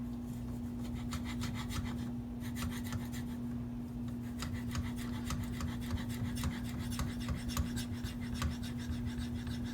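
A Maxamet steel knife edge grinds against a Venev diamond sharpening stone in repeated rasping strokes, a close, scratchy rubbing with a steady rhythm over a constant low hum.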